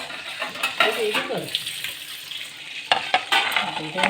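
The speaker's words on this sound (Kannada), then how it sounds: "ಮೀನು ಫ್ರೈ ಮಾಡ್ತಾ ಇದ್ದಾರೆ" Mackerel fillets fry in a pan with a steady close sizzle and bursts of stirring and scraping; a few faint voices come and go under the crackle.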